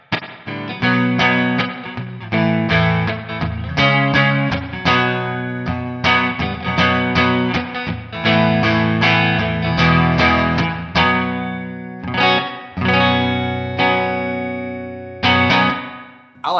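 Electric guitar chords and picked notes ring out through the Line 6 HX One/Helix Hot Springs reverb, with a lush, spacious reverb tail, played continuously without talking.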